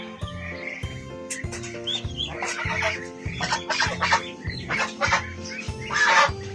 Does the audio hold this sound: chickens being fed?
yes